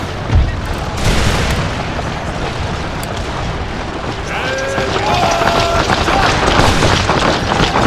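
Cannon booms and musket fire from a battle in Empire: Total War with Mexican units mods, heavy blasts at the start followed by a dense rolling din.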